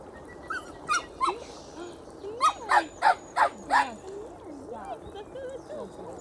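A young golden puppy gives a run of short, sharp yips and barks, with quieter whimpering squeals between them, close by under light background noise.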